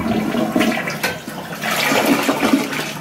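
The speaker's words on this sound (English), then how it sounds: "I'm going to first try the single flush." A newly installed toilet running a single flush, a loud close rush and gurgle of water that churns steadily for about three seconds with no voices.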